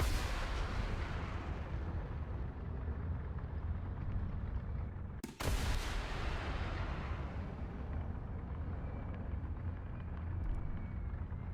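A tank cannon fires in a combat video game, a deep booming blast over a dense, continuous rumble of battle noise and engines, with one sharp crack near the middle and no talking.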